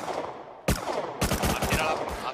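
Bursts of gunfire from the survival video game Rust during a raid, with one sharp shot followed by a rapid rattling volley of close, loud reports and a final single shot.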